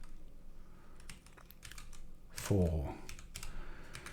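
A git commit message being typed on a computer keyboard, a few faint key clicks under a brief spoken word, with a louder rustle midway.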